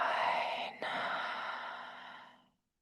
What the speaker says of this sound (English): Exhale that air down the spine.